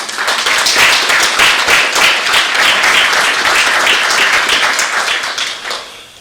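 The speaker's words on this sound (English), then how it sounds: "So would y'all give him a round of applause?" An audience at a dedication ceremony breaks into dense, steady applause, many hands clapping close and loud for several seconds before tapering off at the end, with no voices over it.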